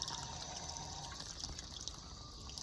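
Water runs steadily over a recorder as it is rinsed under a tap, a soft continuous splashing that stays even and moderately quiet with no voices.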